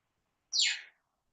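A bird gives a single short, high chirp that sweeps downward. The call is fairly faint, clear and isolated, with silence before and after.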